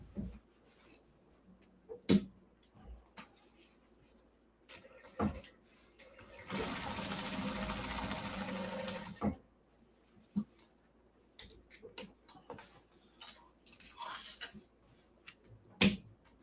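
A sewing machine quilting a large fabric project holder runs in one steady burst of about three seconds, set between scattered soft clicks and handling noises in a quiet room.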